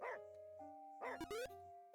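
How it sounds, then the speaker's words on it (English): A dog named Hester barks in a video game, with several short yips and barks close up over a soft game soundtrack. "Hester kept barking at me until I followed her to the spot where we are trapped"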